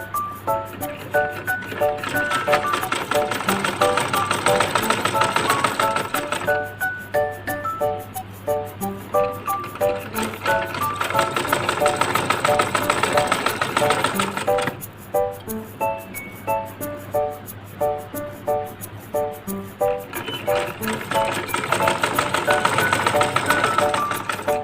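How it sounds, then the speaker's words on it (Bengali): A household sewing machine stitches palazzo trousers at home, running in long steady mechanical bursts with rhythmic clicking and a low motor drone, pausing briefly between runs. "সকালের নাস্তা করে সেলাই করতে চলে আসলাম, একটা প্লাজো বানাবো।"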